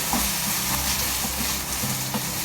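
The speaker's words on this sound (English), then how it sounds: "I'm going to add the Rogan Josh paste. Stir that in." Rogan Josh paste and garlic are stirred in a hot pan, giving a continuous close sizzle and hiss with faint scraping strokes underneath.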